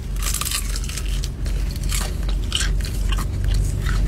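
Crunchy bites and chewing of chicken wings dipped in ranch, heard close up with steady mouth noises and crisp crackles across the whole stretch, no talking.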